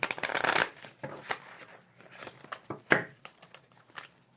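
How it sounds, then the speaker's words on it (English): Stiff new playing cards being shuffled by hand, with several loud riffling bursts and softer flicks and taps in between, close up and without talking. "For you listening, all we're doing is shuffling. Shuffling cards."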